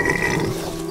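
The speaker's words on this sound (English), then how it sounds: "Piggies, of course." Pigs in a pen in the video game A Plague Tale, heard as a brief, close run of low grunting and snuffling with no talk over it.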